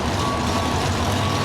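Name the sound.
pickup truck backing up with reversing beeps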